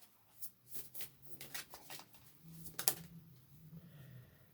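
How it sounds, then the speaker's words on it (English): Rapid papery riffling of cards being shuffled in short bursts, with a low hum underneath and a brief sharper snap near the end. "3 more shuffles after this"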